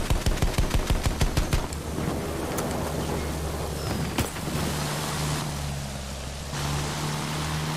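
Rapid machine gun bursts from an attack plane in a combat flight video game, a quick string of about a dozen loud shots at the start and a few later single cracks over a constant engine drone; no talking.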